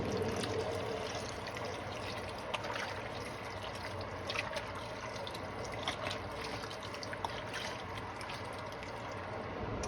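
Broth pours from a box into a pot, a continuous steady trickle throughout, with faint splashy texture and no speech.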